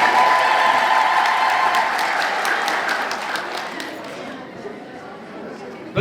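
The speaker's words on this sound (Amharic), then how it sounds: "እኔ የተሰማኝ ከጊዮርጊስ አካባቢ የመጡ ሰዎች ጭብጨባ ነው" A wedding sermon audience claps in a dense, loud, sustained wave of applause mixed with crowd chatter, slowly thinning toward the end.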